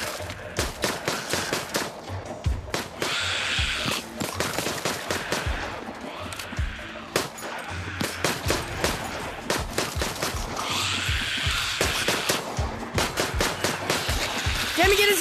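Gunfire in the VR zombie game Arizona Sunshine: dense, rapid bursts of sharp shots crack close and loud in quick succession, with only brief gaps between volleys.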